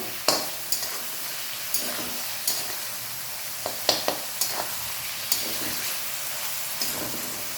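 Four or five crushed garlic cloves fry in a pan while being stirred, a steady close sizzle broken by a dozen or so sharp scrapes and knocks of the spoon at irregular intervals, with no talk.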